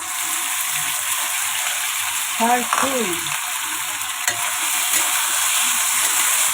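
Ingredients sautéing in a hot pan for Chinese-style canton noodles with bean sprouts, a loud continuous hiss of frying with a brief squeaky utensil scrape near the middle and occasional stirring clicks.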